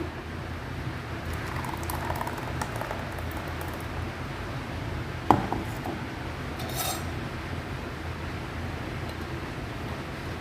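Blended sweet lime juice from a mixer is strained through a filter, giving a steady wet trickling and splashing with one sharp clink of a utensil midway.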